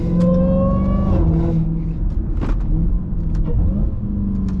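Dodge Charger Hellcat engine heard from inside the car in morning traffic, a steady loud drone with a high supercharger-style whine and rising tone early on, continuous throughout with no talking.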